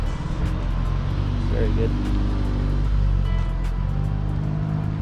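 An Audi S3 pulls into a car meet, its low engine rumble steady and fairly close beneath people chatting nearby.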